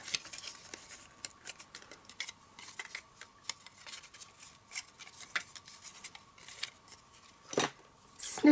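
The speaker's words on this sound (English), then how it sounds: "Snip off the excess." Scissors snip off excess grey granite wrapping paper around a box, a long string of light, crisp cuts and paper rustles, close and fairly quiet, with one louder crinkle near the end.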